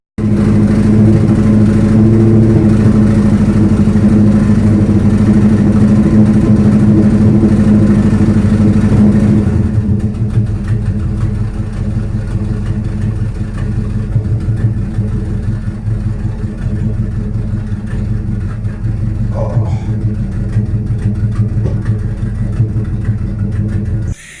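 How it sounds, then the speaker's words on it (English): A car engine idles and revs nearby, loud and steady for the first ten seconds, then settling to a lower, quieter running hum that continues to the end. "So at first it was like revving up the engine"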